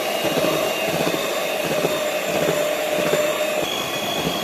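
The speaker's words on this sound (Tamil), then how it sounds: "இதையும் ஊற்றிட்டு நல்லா பீட் பண்ணிக்கலாம்" An electric beater churns cake batter with sugar and melted butter, giving off a loud, continuous whirring drone that holds steady throughout.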